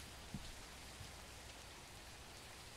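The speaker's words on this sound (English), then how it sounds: "And it's raining." Steady, soft rain falls in a video game, a faint even hiss with a couple of brief thuds and no voices.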